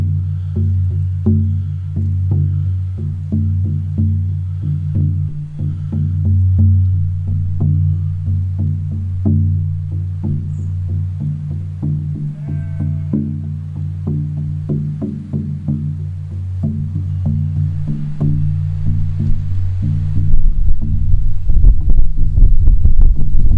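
A 22x18 inch oval buffalo skin shamanic drum struck in a steady, even beat, each deep booming low thud ringing with a resonant hum, played outdoors at close range with wind picking up toward the end.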